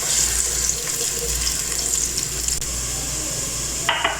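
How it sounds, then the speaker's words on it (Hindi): Onions fry in a pan for dal tadka with a steady, close, loud sizzling hiss that stays even throughout, ending with a brief brighter spatter. "इसमें डालना है तो प्याज को थोड़ा सा गोल्डन फ्राई होने देंगे।"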